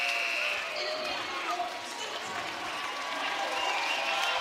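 Sustained applause and crowd noise fill a high school basketball gym during a sectional championship between the Mt. Vernon Rams and Centralia Orphans, steady and moderately loud throughout with faint voices mixed in.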